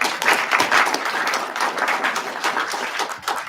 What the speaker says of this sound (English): So I think give yourselves a round of applause.